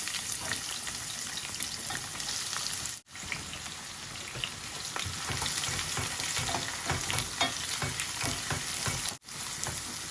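Onions sizzle loudly in a hot pan, a dense, continuous crackle and spatter with faint stirring scrapes. There is no talking.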